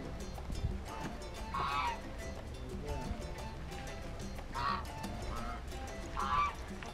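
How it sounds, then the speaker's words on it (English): Geese honk a few times at moderate distance, spaced apart over a steady outdoor background. "Geese and ducks."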